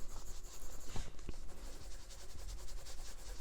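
Colored pencil shading in small circles on a mermaid page of an adult coloring book, Prismacolor blending: a steady, close, soft scratchy rubbing that runs continuously, with a couple of brief taps.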